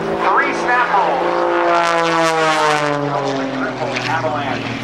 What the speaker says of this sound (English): Patty's going to attempt to cut that ribbon in half with her airplane.